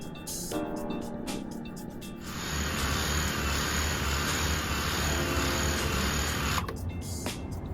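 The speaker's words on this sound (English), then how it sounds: "Well, the motors still work." Small DJI Mavic Pro quadcopter drone, recently crashed into an iceberg, runs its motors up indoors: a loud steady high whine sets in after about two seconds and holds, then drops back.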